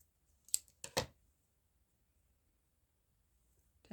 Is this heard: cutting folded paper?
yes